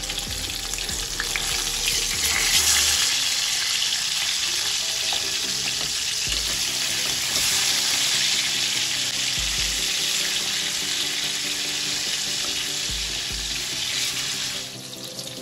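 Catla fish pieces fry in hot white oil in a wok, a loud, steady, close hiss and crackle with bursts of spattering and a few soft scraping knocks as the fish is turned.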